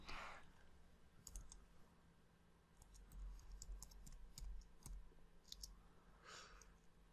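Text being typed on a computer keyboard during SketchUp Pro 2020 work, a quiet close series of irregular light key clicks in short clusters, with a soft breath near the start and end and no talking.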